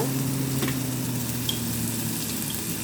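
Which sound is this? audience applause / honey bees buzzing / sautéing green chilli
sautéing green chilli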